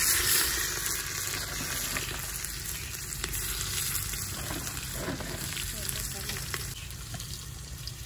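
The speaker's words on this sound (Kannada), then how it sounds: "ಕರ್ಬೇವು ಹಾಕ್ತಾ ಇದ್ದೀನಿ. ಈರುಳ್ಳಿ, ಬೆಳ್ಳಿ ಹಾಕ್ತಾ ಇದ್ದೀನಿ." Curry leaves, onion and garlic hitting hot oil in a pan for a village-style sprouted horse gram saaru, a loud, continuous close-up sizzle with stirring, while someone talks over it.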